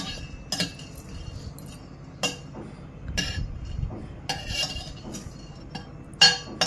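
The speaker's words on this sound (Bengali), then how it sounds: "শুকনো খোলায় এইভাবে ভেজে নেব" Spices dry roasting in a hot pan, stirred with a utensil that scrapes and clinks against the metal in irregular bursts, close by, over a low steady background.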